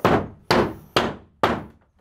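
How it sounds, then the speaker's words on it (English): Four sharp, evenly spaced hammer blows strike wall sheathing on a shed, each a loud, close thwack that rings and fades before the next lands. "All right, so we're gonna hammer the sheathing."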